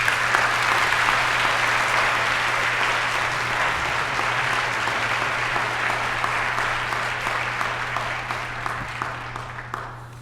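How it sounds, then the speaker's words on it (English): A large audience at a Beloit College Martin Luther King Jr. Day convocation claps steadily in sustained, loud applause that gradually fades toward the end. "So please give a round of applause for Mr. Scott Bierman."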